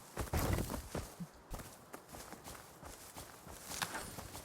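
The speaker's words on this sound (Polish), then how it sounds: "Aż te odgłosy wreszcie potrafią wystraszyć, a to tylko jakiś jelonek. Jelonek biegacz." A small deer running nearby in the survival game Rust: a quick patter of hoof footfalls, loud at first and then lighter and steadier, over soft rustling ground noise.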